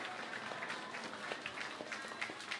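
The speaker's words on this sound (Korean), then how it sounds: "우리 박수 치면서 수고하셨습니다. 이렇게 격려하겠습니다." A church congregation applauds during a Sunday worship service, giving steady, faint, rather distant clapping that continues evenly from start to finish.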